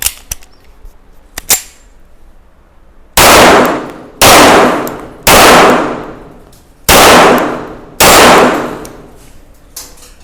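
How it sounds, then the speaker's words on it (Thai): Five loud, sharp pistol shots from a RIA 1911A1 firing practice rounds, close and evenly spaced about a second apart with ringing decay, preceded by faint handling clicks. "พอยิงลูกซ้อมแล้ว"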